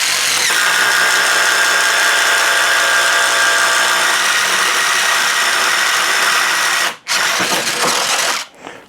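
A Ridgid impact driver spins a 1-inch Irwin speed bore bit, a loud, steady mechanical whir and grind holding for about seven seconds before cutting out briefly, then ending with a short burst.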